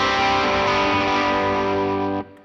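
A slightly overdriven bass guitar through the JHS Loud is More Good amp plugin and an Electro-Harmonix Big Muff Russian fuzz holds one thick, buzzy, bright note that rings for about two seconds, then stops abruptly.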